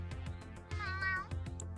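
A single cat meows close by, a clear rising-and-falling call lasting about half a second, set among soft clicks and a low steady hum.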